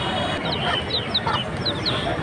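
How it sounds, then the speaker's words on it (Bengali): Native chickens cluck at a busy outdoor bird and poultry market in Hasnabad, with several short, sharp calls over a constant crowd-and-market noise bed. "খুব সুন্দর একটা সাদা মুরগি দেখতে পাচ্ছেন"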